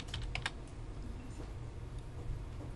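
Typing a command on a computer keyboard while drafting in AutoCAD, a steady run of close, light key clicks with a few sharper taps near the start, heard on its own with no talking.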